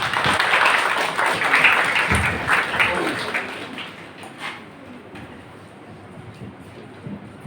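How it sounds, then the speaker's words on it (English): Audience applause welcoming a speaker at an international seminar, a crowd of hands clapping briskly for a few seconds before tapering off into quiet room tone. "A big clap for him, please."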